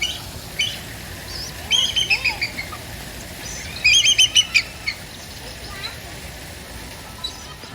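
Rescued flightless birds at a zoo call in bright bursts of chirps and short trilling phrases, some louder and nearer, over a quiet ambient background.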